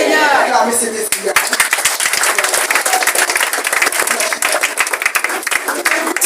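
Sustained clapping and applause from a church congregation at an annual revival service, dense and steady for several seconds, with a brief voice at the start before the hands take over.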